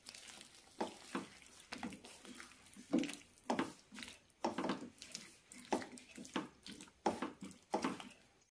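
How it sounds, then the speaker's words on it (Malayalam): Drumstick pieces in onion masala cooking in a pan as water is added, giving a close, bubbly sizzle with rhythmic stirring and scraping bursts, moderately quiet throughout. "കഷ്ണങ്ങൾ വേവാനുള്ള വെള്ളം ഒഴിക്കാം"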